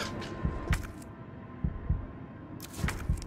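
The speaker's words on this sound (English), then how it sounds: "I hear my heartbeat." A heartbeat effect in the video game Resident Evil 3 Remake, low thumping double beats repeating in a slow, steady rhythm, loud and close over a faint background hum.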